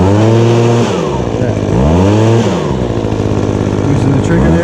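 An Echo gas leaf blower's small two-stroke engine runs loud and close, its droning pitch rising and falling several times, with some talking over it.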